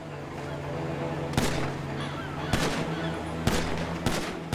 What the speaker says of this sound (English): It laid down some covering fire so he could escape down to the beach.